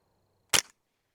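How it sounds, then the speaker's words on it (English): A single sharp gunshot fired into meat during a bullet penetration test, a loud close crack with a brief tail, then silence. "Let's do one more shot and see."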